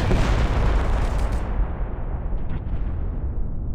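Dense burst of gunfire in the video game Reverse: 1999, loud crackling and booming shots piling together before abruptly cutting to a quieter, muffled rumble.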